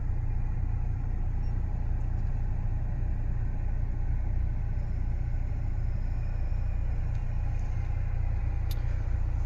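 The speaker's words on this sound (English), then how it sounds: "The ignition is on, and 1 minute later the engine is gonna start." A Nissan 350Z started remotely by a timer settles into a steady low idle, an even rumble holding at constant loudness throughout with no talking.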